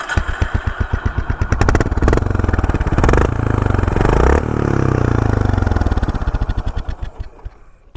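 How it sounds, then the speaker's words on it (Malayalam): Honda CB 350 Highness fitted with a Silver Stallion performance exhaust, revving loudly up close with a rapid thumping idle that rises into sustained throttle blips before settling back down. "ഞാൻ എൻ്റെ എക്സോസ്റ്റ് ജസ്റ്റ് ഒന്ന് കേൾപ്പിച്ചു തരാം."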